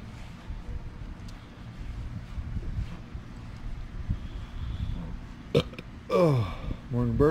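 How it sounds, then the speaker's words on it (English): A dog's morning burps come as a few short, guttural bursts near the end, after a stretch of low outdoor wind rumble with faint background sound. "Morning burps."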